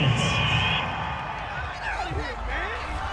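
Home crowd cheering at an American football game after a penalty call, a broad distant roar with whoops rising and falling under a commentator's voice.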